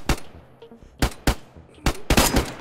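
Close, loud gunshots in DayZ PvP, five or six sharp reports in uneven succession with a quick double at the end, alone without talk.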